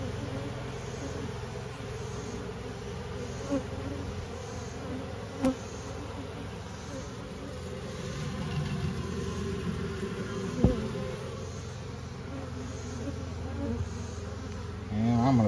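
Honey bees buzz steadily around a Layens hive during a colony transfer, a continuous close droning hum with a few faint knocks and bumps.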